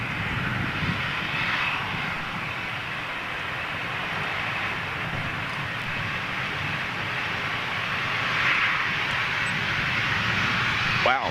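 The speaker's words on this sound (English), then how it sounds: "Get some reverse action." A jet airliner touching down with reverse thrust deployed, a loud sustained engine roar that swells slightly near the end, with no inboard reversers used.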